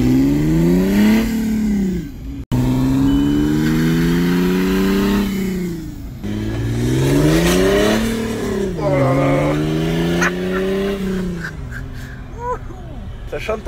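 A car engine starts and revs hard close by, its pitch climbing and falling through several accelerations as the car drives off, with someone talking over it.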